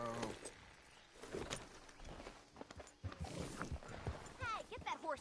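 Horse hooves clop on the ground in Red Dead Redemption 2, irregular steps mixed with a brief whinny and bird calls, heard under talking and game dialogue.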